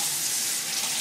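Warm water running steadily from a tap into a container, a close, continuous hiss-like splash with no speech.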